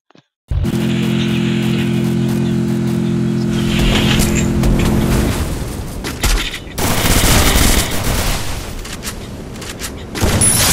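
Sniper rifle fire in a video game, with loud repeated shots and bursts over a sustained droning background, then a pause and more rapid firing.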